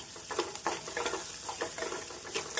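Onions sautéing with salt, curry leaves and green chilies in a pan for a wedding-style chayote poriyal, a steady soft sizzle broken by repeated scraping stirs, close and alone.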